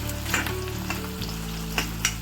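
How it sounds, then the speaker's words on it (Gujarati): Paneer sautéing in hot oil for a chilli paneer dish, a steady close sizzle with a few sharp crackles and spatters and a low background hum, no voices. "હવે આને હું થોડીક વાર માટે તેલમાં સાતળવા દઈશ."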